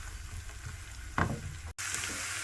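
Ginger and garlic frying in a pan over medium-low heat give a steady close sizzle, with a brief louder stirring scrape midway and a short dropout near the end.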